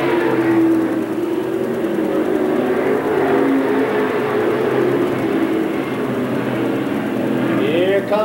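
Pro Stock race cars lapping Seekonk Speedway in a heat race, heard as a steady, fairly loud engine roar and whir from the track throughout.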